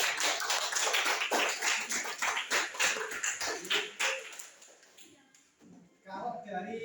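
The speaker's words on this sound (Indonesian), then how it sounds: "Tepuk tangan untuk itu." A class claps hands together in a dense burst of applause for about four seconds, then it fades and a voice speaks.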